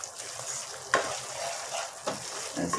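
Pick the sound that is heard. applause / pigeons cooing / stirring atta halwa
stirring atta halwa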